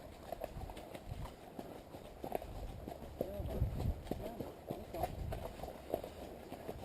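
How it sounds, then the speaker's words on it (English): Hooves clip-clopping as a horse moves through a field, an uneven run of thuds building toward the middle, moderately close and partly under quiet talk from people nearby. "there might be a horse in that field"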